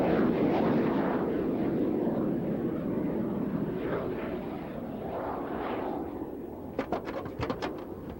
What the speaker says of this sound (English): now the T-37 will come in for a touch and go